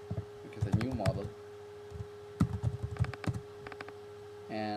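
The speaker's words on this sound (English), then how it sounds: "type the name of our new application" Fingers type on a computer keyboard in quick clusters of close clicks with short pauses between, and a voice speaks briefly near the start.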